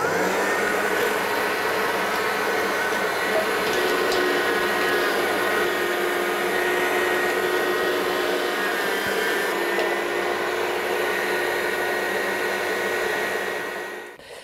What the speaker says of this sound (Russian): Включаем мясорубку, и я буду очень быстро это делать.